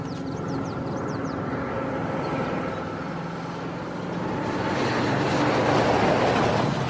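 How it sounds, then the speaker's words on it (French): A steady low engine drone hums in the distance, growing slightly louder and rougher toward the end, with no talking. "un bruit de moteur à midi, descends"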